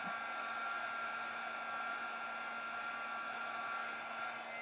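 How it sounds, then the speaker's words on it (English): Continuous blowing whoosh of a heat gun used for heat embossing on a stamped holiday card, steady and fairly close, running alone without speech. "I love heat embossing."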